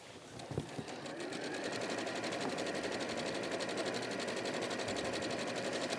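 A sewing machine runs a long, steady seam of big stitches through heavyweight fabric with an overlocked edge, its rapid mechanical whir continuous and close after a couple of brief clicks at the start.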